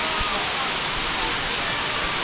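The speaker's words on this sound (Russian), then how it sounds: "Так вот смотрится водопад с фронтальной стороны." Na Muang waterfall on Samui, seen from the front, pours in a dense, steady, loud rush of falling water that fills the whole stretch, with no voices audible over it.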